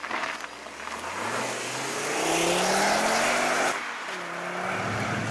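A Ford Focus RS engine accelerates hard, its rising revving tone climbing through several gear changes, loud and close with a throaty roar and no talk.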